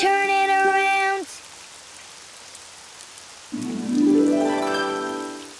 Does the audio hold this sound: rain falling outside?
yes